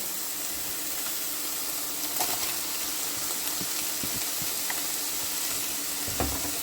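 Ground beef cooking in a pan with onions added, giving a steady, close sizzle of frying with occasional stirring scrapes and clicks, no voices.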